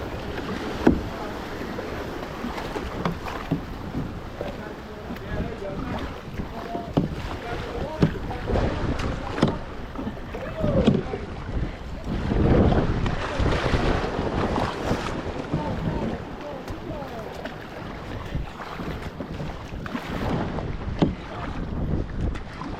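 A kayak pushes through ocean waves in a rocky channel, with splashing surges, paddle strokes and heavy wind buffeting on the microphone over roughly twenty seconds, with no voices.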